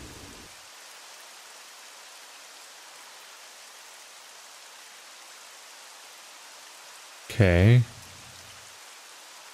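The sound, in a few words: rain falling in the video game Myst V: End of Ages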